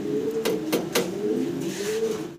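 Helmet pigeons coo steadily in low, throaty murmurs, with a few sharp clicks or flaps in between; no one speaks.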